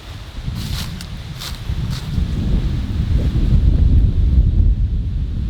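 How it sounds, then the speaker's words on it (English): Strong wind buffets the microphone outdoors on a homestead near papaya trees, a continuous loud rumble that builds through the clip, with faint rustling on top. "it's too windy. Hopefully you can hear me."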